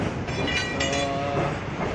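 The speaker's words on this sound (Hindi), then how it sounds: "अभी देख सकते हैं कि मालगाड़ी जा रही है" A goods train runs steadily through Akaltara railway station in India, giving a continuous loud rumble of wagons with rail clatter and faint squealing tones, with no talk over it.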